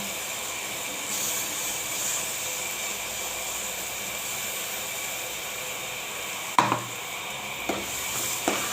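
Ground spice paste frying and being stirred in a hot pan, a steady broadband sizzle throughout with a few sharp scraping clicks near the end.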